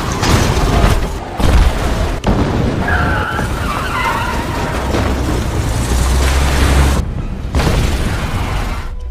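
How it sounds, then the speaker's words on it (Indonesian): Bomb attack on a peacekeeping post in a Russia–Georgia war film, loud booming blasts and rumbling debris layered with a dense dramatic soundtrack, with sudden cuts and drops between heavy hits. "Pos perdamaian tempat Zaur bertugas pun mendapat serangan bom dari militer Georgia."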